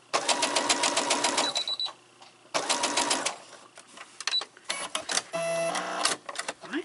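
Sewing machine stitching quilt pieces with a bobbin running low, running in close, loud bursts of rapid needle strokes that stop and restart several times, with short pauses and light handling noises between runs.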